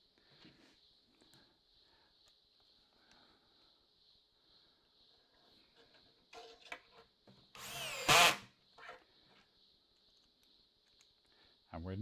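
A CXS drill with its clutch set to 5 drives a screw in one brief, loud burst of about half a second. Quiet workshop handling and faint talk surround it.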